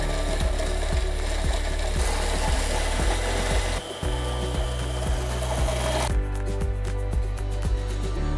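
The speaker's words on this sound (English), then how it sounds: "Now let's turn on our food processor." A food processor grinds peanuts with sweet or smoked paprika, salt and pepper for Egyptian dukkah, giving a loud continuous motor whir with a rhythmic chopping pulse that shifts in pitch as the mixture breaks down.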